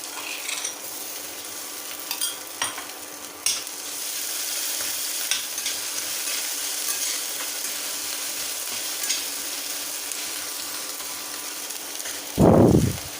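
Cumin seeds and hing sizzle steadily in hot oil in a pan while a spoon scrapes and stirs in short taps, ending with a loud clank of a utensil.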